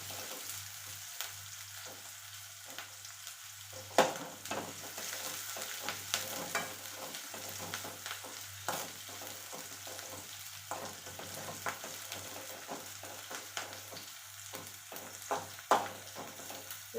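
Two large green chillies frying in a pan until they blister red, a constant soft sizzle broken by frequent popping crackles and utensil taps near the listener.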